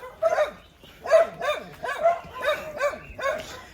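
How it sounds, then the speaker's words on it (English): Small fluffy dog yapping repeatedly near a beach path in Nusa Lembongan, Bali, a series of sharp high barks in quick bursts, about six or seven yaps spaced roughly half a second apart. "it was only a fluffy dog, but it was yapping too much"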